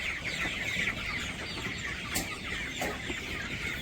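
Chickens cluck and murmur nearby in a village, with several short bursts rising over a quiet rural background and no speech.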